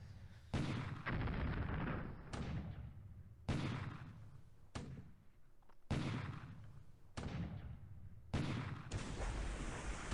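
Coastal defense guns fire in a War in the Pacific naval battle, a run of about seven loud booming blasts, each sharp onset followed by a rumbling tail, spaced roughly every second or so.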